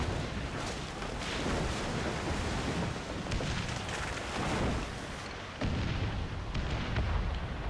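Ship cannon broadsides in the naval combat of Assassin's Creed IV Black Flag: dense, rumbling blasts that merge into a continuous roar, with a brief break before the heavy booming resumes. No voices are heard.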